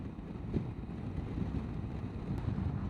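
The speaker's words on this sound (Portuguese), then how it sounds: "Ó o vento. Não sei se vocês conseguem escutar aí. Batendo aqui no capacete." Wind buffeting a helmet high in the Andes, a continuous loud low rumble with gusty fluctuations close to the microphone, no voices.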